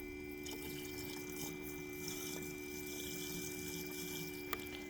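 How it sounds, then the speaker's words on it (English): Fizzing of air bubbles trapped in the cooling system of a BMW X5 E70 after an expansion tank replacement, a steady faint watery hiss with occasional tiny pops, continuous and close, no voices. "hear that fizzing sound? Those are air bubbles that are trapped in the cooling system"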